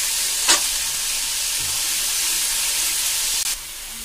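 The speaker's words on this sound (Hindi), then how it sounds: "प्याज को 3 से 4 मिनट ब्राउन आने तक इसे फ्राई करेंगे" Onions frying to brown in a pan for a black chickpea curry, a loud, dense, continuous sizzle with a brief scrape of stirring near the start.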